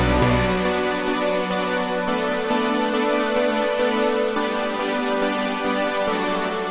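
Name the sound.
buzzy synth chords in Propellerhead Reason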